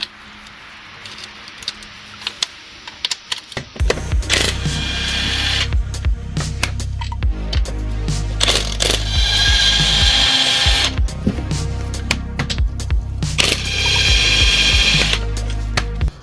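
Power tool or ratchet work on 16mm bolts during a clutch replacement on a VW Polo 1.2 TDI, with short bursts of whirring and clicking after a quiet start, then sustained loud mechanical buzzing in repeated runs close by.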